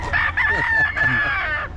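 A rooster crows loudly and close by, one long sustained call with clucking chickens around it, among fowl from Nueva Ecija being sold.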